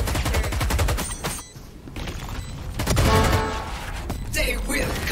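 Rapid bursts of gunfire from a tactical shooter game with a planted spike, loud and close, several volleys in quick succession with brief gaps, mixed with faint game effects and a little voice.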